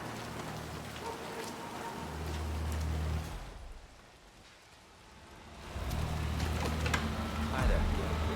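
Steady rain hiss in the video game Hitman, a continuous wash that dips briefly mid-way before returning, with low engine-like hum and faint sounds mixed in.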